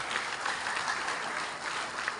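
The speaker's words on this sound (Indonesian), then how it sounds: "Partai Buruh Insinyur Haji Said Iqbal, tepuk tangan untuk beliau." Applause from a political rally crowd honoring a speaker, a steady dense wash of clapping sustained at even loudness across the whole short stretch.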